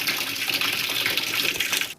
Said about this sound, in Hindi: तो यहाँ पे मशीन में भर रही हूँ पानी।